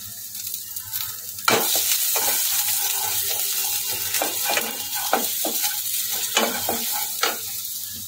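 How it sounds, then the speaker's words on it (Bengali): Chopped ginger and garlic frying in oil, loud crackling sizzle beginning sharply and continuing, punctuated by repeated clinks and scrapes of a stirring spoon. "1 মিনিট মতো সময় নিয়ে আমি এটাকে নেড়ে নেব।"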